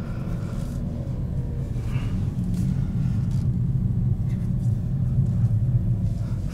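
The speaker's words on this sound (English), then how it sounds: "The car's moving under its own power." A manual 2021 Kia Forte pulls away under its own engine power, a steady low rumble of engine and road noise running continuously at moderate level throughout, with no voices over it.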